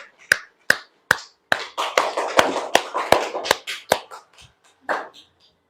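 Children in a classroom clap their hands in a patterned rhythm, roughly a dozen sharp, close claps, some in quick runs, ending with one last clap after a short pause.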